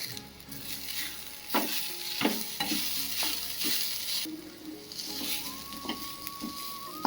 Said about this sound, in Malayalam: ഇളക്കി നന്നായിട്ട് യോജിപ്പിച്ച് കൊടുക്കുക.